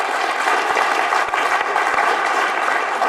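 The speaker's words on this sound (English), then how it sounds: "Give a nice round of applause." A street-hypnosis audience claps for a volunteer coming up, a loud, even wash of many hands applauding continuously for about three seconds.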